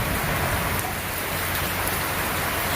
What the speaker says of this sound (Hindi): शायद की आवाज़ से आप लोगों को अंदाज़ा हो जाए कि बारिश की शिद्दत कितनी ज़्यादा है।